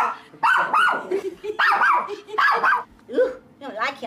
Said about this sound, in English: let's see if Maggie will growl at this thing